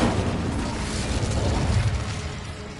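Incendio fire spell cast in the video game Hogwarts Legacy, a loud dense whooshing roar of flame that fills the whole brief moment with rumbling low bursts and fades slightly at the end.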